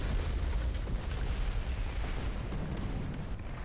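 A tank's ammunition cooking off in War Thunder, a heavy, low rumbling blast that sustains as a dense roar and slowly fades, ending with a sharp pop at the very end.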